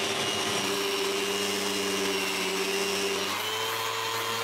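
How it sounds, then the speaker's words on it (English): Floor sander working a wooden patio floor outdoors, a steady, loud motor whine with a slight pitch drop partway through, continuous throughout with no talking. "while I'm beginning to sand the floor"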